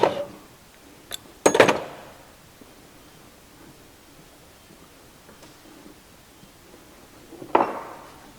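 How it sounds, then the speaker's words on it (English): Metal drift tapped against a part on an A40 Farina rear axle during a rebuild: a few sharp, separate metallic knocks spread across a quiet stretch, close and clear. "that will just need a little tappy tap tap. So I'll just get a little drift"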